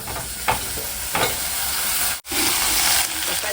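Tomatoes fry in oil in a pan as a home curry is cooked. A continuous, fairly loud sizzle runs throughout, with a few soft stirring bumps and one brief dropout.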